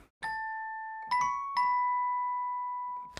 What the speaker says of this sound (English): these bells are actually just a bell tone piano from Keyscape